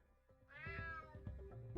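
A cat in the UnMetal video game gives a single rising and falling meow, close and fairly faint, set against quiet game sounds with no talk.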